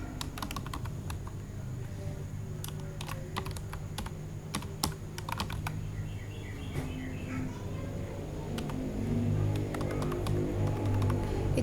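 Typing on a computer keyboard while working in RStudio: irregular clusters of close, crisp key clicks tap on for several seconds over a faint background hum, with a low voice murmuring briefly near the end.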